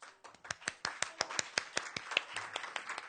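A small audience claps for a first-time reader at a poetry open mic, a run of sharp, fairly quiet claps in a quick, steady rhythm from just a few pairs of hands.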